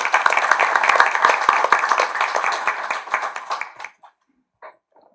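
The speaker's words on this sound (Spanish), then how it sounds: "Un aplauso para él." Audience applause at a university lecture on republicanism and citizenship: brisk, dense clapping for several seconds that thins out and stops, leaving a few scattered late claps.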